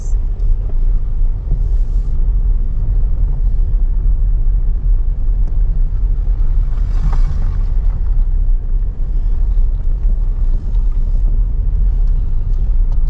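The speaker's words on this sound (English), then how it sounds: "we hopped in the truck with the handy brochure and headed down these bumpy dirt roads" A truck driving down bumpy dirt roads through Monument Valley, a steady loud low rumble of engine and tyres on rough ground that runs throughout without a break, with no voices.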